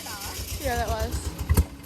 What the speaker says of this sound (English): it's not making a good noise. It's like popping.